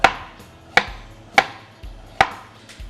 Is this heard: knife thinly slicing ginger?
yes